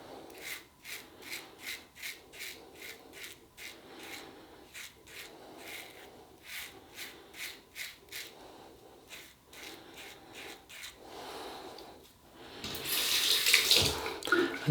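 Tap water runs while a razor is rinsed after a shave with a Gillette Techmatic, giving a close, steady splashing with rhythmic rinsing strokes and a louder gush near the end.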